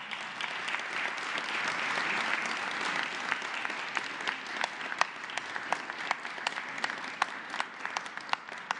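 An audience applauds at a presidential press conference in Mexico, a steady wash of clapping with sharper individual claps standing out toward the end, sustained for several seconds without speech.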